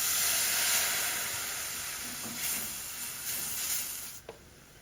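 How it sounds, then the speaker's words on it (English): White wine hits a hot pan to deglaze it over flour, producing a loud bright sizzling hiss that gradually eases, close up, with a faint clink near the end and no voices. "Now we're going to deglaze it with some white wine."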